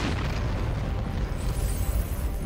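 A loud, sustained low rumbling blast from an in-game explosion in Century: Age of Ashes, dense booming energy filling the whole clip with no voices over it.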